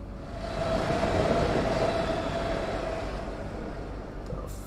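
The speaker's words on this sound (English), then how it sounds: "We're at a train station." A train rumbles through a dark station in a video game, a steady, fairly loud rolling roar with a faint whine that swells and then slowly eases.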